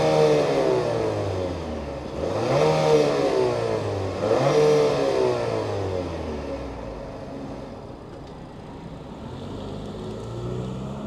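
A 2025 Nissan Murano SV with a VC turbo engine revving: two rising and falling engine surges over a steady idle hum, fairly close, then settling back to a low idle.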